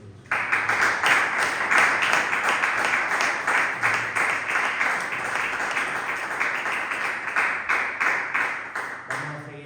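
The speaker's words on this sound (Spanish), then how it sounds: "Dale un fuerte aplauso a Cristo Jesús." A church congregation gives a loud, sustained round of applause lasting the whole stretch, dense clapping rising quickly at the start and holding steady before tapering slightly near the end.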